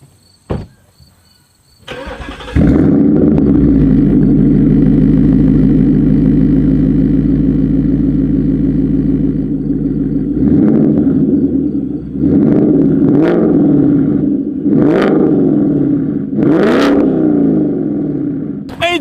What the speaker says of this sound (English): what you will be hearing is the AWE Touring Catback exhaust system